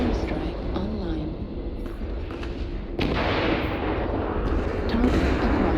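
Airstrike explosions in the mech combat game MechWarrior Online, deep rumbling booms over constant battle noise, with a heavier blast striking midway and the barrage continuing loudly after it.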